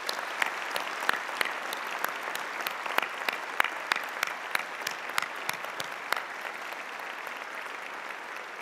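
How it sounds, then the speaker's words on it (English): Audience at a spring university convocation applauding graduates, a dense, steady wash of many hands clapping throughout, moderately loud in a large hall. "let's give them all a round of applause"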